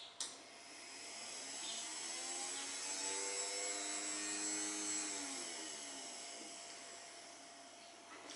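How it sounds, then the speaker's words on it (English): A hard drive motor spinning up after a repaired component is pushed into the motor's center, a quiet whirring whine that rises and steadies over several seconds and then slowly fades, heard alone. "You should hear a swift startup sound like this."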